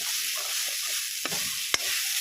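Grated coconut and jaggery fry in a pan with a steady soft sizzle, and two sharper spatula scrapes cut through near the end; no voices.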